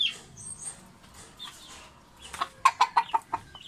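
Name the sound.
White Kelso chickens clucking in backyard farm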